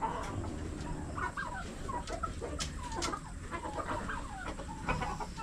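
Darag chickens cluck steadily in a yard, with layered calls from several birds near and farther off over a continuous background murmur, and no one speaking.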